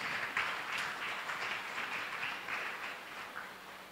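A church congregation at a Sunday service claps together for Jesus, a steady, fairly soft wash of applause lasting throughout with no talk over it.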